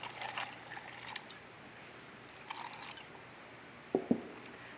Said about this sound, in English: I'm just gonna pour it from the can.